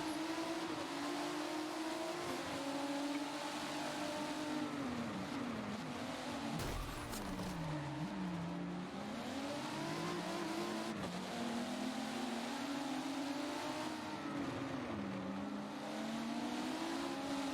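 Racing cars in an esports sim race at Brands Hatch, engines droning and revving continuously as gears shift up and down, with occasional tire noise, no talk over the steady roar.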